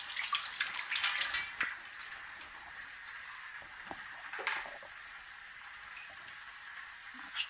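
Tap water runs and splashes while mutton is washed by hand, a soft steady trickle with a few louder splashes and clinks early on, close and fairly faint, no talking.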